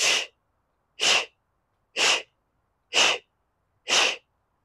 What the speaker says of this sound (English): That's Kapalbhati breathing.